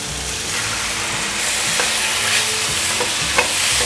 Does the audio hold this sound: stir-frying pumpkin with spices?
yes